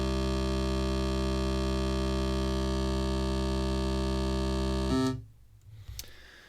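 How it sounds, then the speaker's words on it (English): A synthesizer oscillator drones steadily with its envelope switched off, a loud sustained buzzy tone with stacked harmonics that holds for about five seconds before cutting off abruptly, leaving a few faint low clicks. "So let's actually take that droning oscillator."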